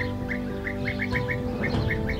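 Small birds chirp repeatedly in a steady, rhythmic series of short tweets during breeding season among almond trees, moderately near over a soft outdoor background.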